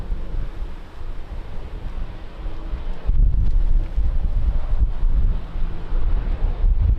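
Strong wind buffeting an outdoor microphone at Lisbon airport, a steady loud rumbling roar that surges heavier partway through, with no voices.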